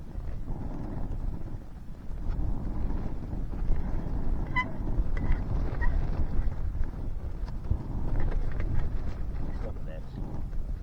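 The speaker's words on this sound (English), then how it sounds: "Bloody wind." Wind gusting across a microphone at a wild camping spot near Gaping Gill in the UK, a continuous rumbling buffet that rises and falls throughout, with faint knocks and rustles on top.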